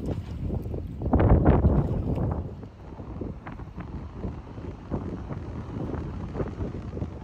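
Strong storm wind, around 38 mph, buffeting outside a canal boat, a loud roaring gust early on that eases into a rougher, fluctuating rush with no voices.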